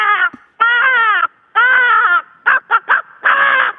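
A voice imitates a crow, giving a string of loud, close, nasal cawing calls: three long drawn-out caws, then three quick clipped ones and a final long caw.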